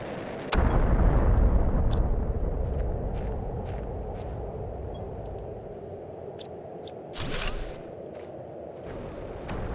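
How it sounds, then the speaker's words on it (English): Explosives blow things up in a video game: a heavy boom hits early and rolls into a long, fading rumble, and a second, shorter blast bursts later amid scattered crackles. "We've got a lot of explosives and a lot of things that need exploding."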